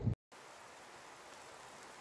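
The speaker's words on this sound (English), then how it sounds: "As you can see, it's pouring down now, and quite a bit of wind so far" Heavy rain pouring down with wind during a long-distance bike ride, a steady even hiss of rainfall continuing without a break after a brief dropout.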